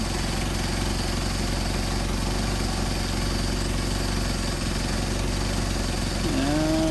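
A Mercedes 190SL engine idles on Solex carburetors after a leakage valve adjustment, a close, steady low rumble with an even pulse that holds throughout before a brief rising whine near the end.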